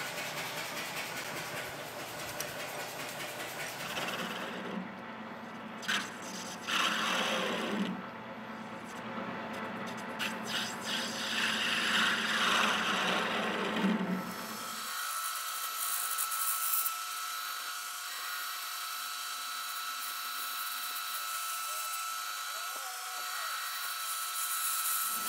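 A lathe turns a steel bar into a dagger pommel with a continuous metallic whir and scraping cutting noise, close and loud, then drops to a thinner, steadier mechanical hum.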